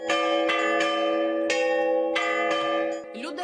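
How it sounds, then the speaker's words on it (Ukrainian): Church bells in city churches clang loudly in an irregular peal, each strike ringing out with long, rich overtones. "Одночасно у всіх міських церквах калатили дзвони"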